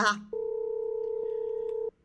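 A telephone dial tone sounds during an outgoing call placed from a live-streamed relationship-advice show: a steady, continuous tone of about one and a half seconds, clear and alone after a brief bit of speech at the start.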